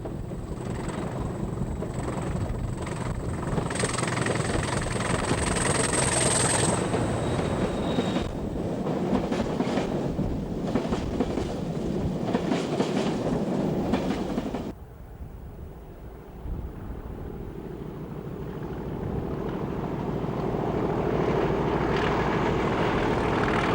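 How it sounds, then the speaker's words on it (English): Two British Rail Class 20 diesel locomotives haul an empty steel train near a coking plant, a loud sustained engine roar with rumbling wagons that abruptly drops away and then builds again, heard without talk. "we see 20061 and 20044 on a Brierley Hill to Scunthorpe empty steel working"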